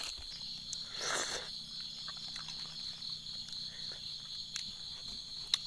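Crickets chirp in a steady, continuous high trill through the whole stretch, with a brief burst of rustling noise near the start; no voices.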